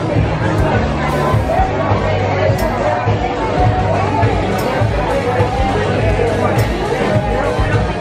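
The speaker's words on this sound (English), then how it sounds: "so there is quite a crowd" A lunchtime crowd fills a dining area at Disney's Animal Kingdom with steady, loud babble of many overlapping voices, a constant hubbub with occasional clinks over a low hum.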